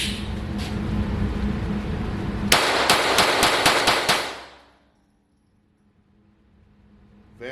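A rimfire rifle fires Monarch ammunition in a rapid string of about six sharp loud cracks over steady outdoor background noise, then the sound cuts to near silence.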